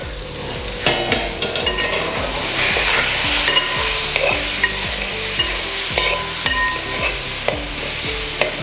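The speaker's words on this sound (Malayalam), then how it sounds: "നമുക്കിനി ഒന്ന് ഇളക്കി ഇട്ട് കൊടുക്കാം." Fish roe thoran frying in a pan on medium flame, a spoon scraping and stirring in repeated strokes over a loud, continuous sizzle, close by.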